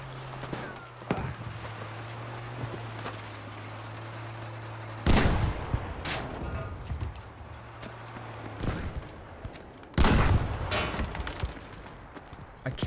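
Gunfire in Battlefield V aimed at an enemy tank: two loud, sharp shots stand out about five seconds apart over a steady low engine hum and scattered distant battle noise, with no talk.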